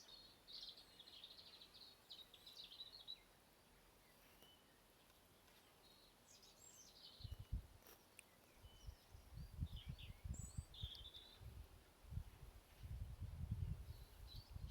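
Faint spring birdsong in Norway chirps and twitters at a distance across a quiet outdoor scene, with soft rustling and low thumps creeping in later.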